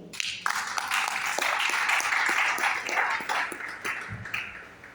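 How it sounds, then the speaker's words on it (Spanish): Church congregation applauding the Lord during a Spanish-language sermon, sustained dense clapping filling the whole stretch at steady strength, with no voices over it. "Den un aplauso al Señor"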